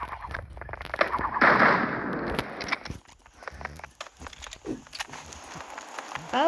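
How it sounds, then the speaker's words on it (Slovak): Video-game gunfire from a close shooter match comes as sharp, scattered cracks and pops, some in quick bursts, mixed with a brief rushing noise and clattering movement sounds. "On strieľa."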